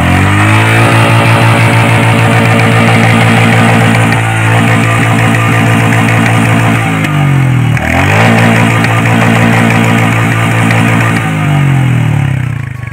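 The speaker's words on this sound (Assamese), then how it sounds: "এই ৰয়েল এনফিল্ড মিটিয়ৰ 350 বাইকখনৰ ছাউণ্ডটো প্ৰথমে আপোনালোকে শুনি লওক" Royal Enfield Meteor 350 motorcycle engine, a secondhand bike, running loud and close with a deep thumping single-cylinder idle and two rising revs that drop back, no talk.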